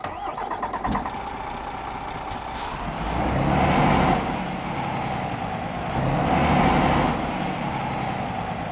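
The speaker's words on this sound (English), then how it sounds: "get this DAF XG Plus started up and get on the road" A heavy truck engine, a DAF XG Plus in Euro Truck Simulator 2, cranks and rumbles to life with a hiss of air brakes, then settles into a steady low idle with two swells of revving.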